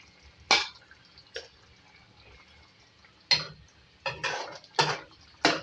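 A spoon scraping and clinking in a pot of beef keema with fried okra, close and sparse: one sharp knock, then a quiet pause, then a cluster of several clattering stirs toward the end.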